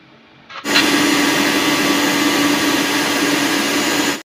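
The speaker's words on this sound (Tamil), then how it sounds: "மிக்ஸி ஜாரில் போட்டு நல்லா அரைச்சி எடுத்துக்கணும்" After a brief quiet start, a mixer grinder switches on and whirs loudly and steadily, grinding dry fenugreek and mustard seeds with a gritty rattle until it stops abruptly.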